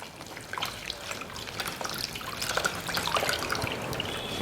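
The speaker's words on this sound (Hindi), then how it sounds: "उसको हमें बहुत ज़्यादा कस के नहीं निचोड़ना है, थोड़े हल्के हाथ से निचोड़ना है, जिससे कि थोड़ा सा हल्का पानी इसके अंदर रह जाए।" Water trickles and drips as a wet towel is wrung out gently by hand, making a close, continuous watery patter with small splashes and no talking.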